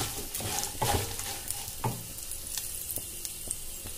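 Spices for tempering paper poha chivda sizzle steadily in hot oil in a pan, with occasional stirring scrapes and light clinks, close up and without voices.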